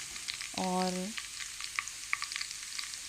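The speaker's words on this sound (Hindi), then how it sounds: "तो ऑयल में मैंने लहसुन डाल दिया, ज़ीरा" Garlic and cumin seeds frying in hot oil for a tadka, a soft continuous sizzle with scattered crackling pops, fairly quiet and close, with one brief voice partway through.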